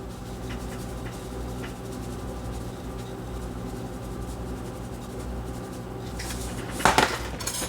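Chicken wings coated in seasoning are tossed and mixed in a bowl, a steady close rustle and scrape that ends in a brief burst of clattering, with no speech.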